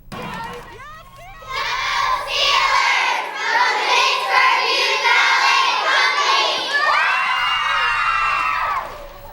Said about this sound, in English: led the crowd in cheers and chants as the terrible towels waved on Forbes Avenue